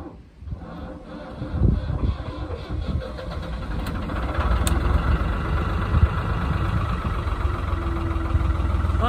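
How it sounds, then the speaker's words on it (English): A boat engine cranks and catches after weeks unused, then settles into a steady, rumbling idle that carries on without a break. "let's have a go at starting the engine"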